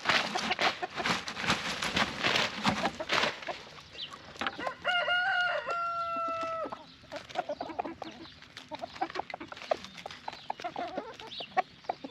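Chickens cluck busily nearby, then a rooster crows a long, clear cock-a-doodle-doo partway through, followed by more scattered clucking.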